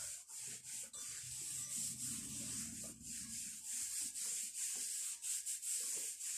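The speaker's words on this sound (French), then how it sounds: "ensuite je frotte mes jambes extérieures, intérieures" Hands rub up and down the legs during a morning self-massage, a close, continuous brushing friction in steady rhythmic strokes with no talking.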